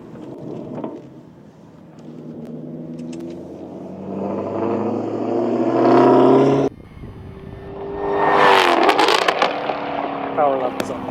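A Porsche 992 GT3 with a newly developed exhaust, its engine revving up loud and close, cutting off sharply, then rising again with a raspy blip while someone talks over it.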